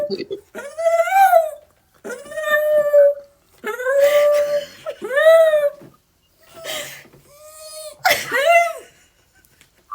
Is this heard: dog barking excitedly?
yes